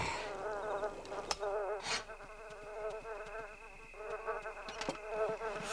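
Flies buzzing in The Sims video game, a steady wavering insect drone close by, joined by a few sharp clicks and a faint voice in the background.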